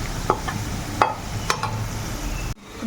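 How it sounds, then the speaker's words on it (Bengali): Potatoes fry in a pan with a soft continuous sizzle, broken by three sharp utensil clicks and a brief scrape before a sudden cut near the end. "এই যে ভাজা হচ্ছে"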